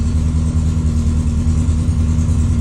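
A 1957 Porsche 356 Speedster widebody replica runs steadily just after a cold start, a loud, even, low engine rumble close by with little change in pitch across the short stretch.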